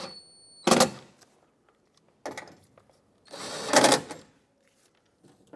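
Ratcheting bolts tight on the window regulator inside a 2009–2014 Ford F-150 door, heard as three short, close bursts of rapid clicking separated by quiet pauses.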